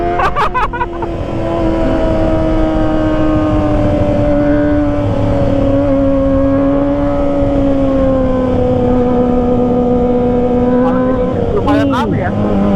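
Kawasaki ZX25R and CF Moto 450SR motorcycles riding through city streets in Serang, producing a loud, continuous engine roar whose pitch rises and falls slightly, heard close throughout.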